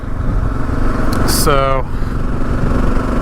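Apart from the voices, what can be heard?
Gen 3 Kawasaki KLR 650 motorcycle riding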